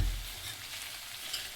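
Bitter gourd curry sizzles in oil with jaggery, chili and salt over a low flame, a short, soft and steady frying hiss with no voices.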